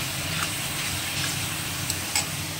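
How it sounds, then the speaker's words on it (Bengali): Masala spices for a parshe fish curry sizzle and hiss steadily in a pan, with faint ticks and scrapes of stirring over the close, continuous frying noise. "ভালো করে মশলাটা কষাতে হবে"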